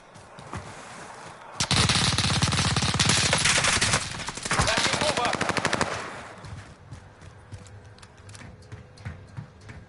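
Sustained automatic gunfire from the video game Call of Duty Warzone, a dense loud burst of rapid shots lasting several seconds before thinning into scattered reports, with some voice chatter underneath.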